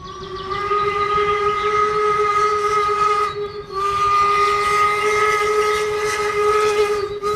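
A toy steam-train whistle sounds in two long, steady blasts with a short break between, loud and close over a hissing background.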